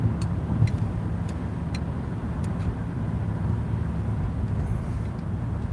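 A car drives along a road near Route 42, producing a continuous low engine and tyre rumble with a faint steady hiss and a few light ticks. It is heard from inside the vehicle, with no talking.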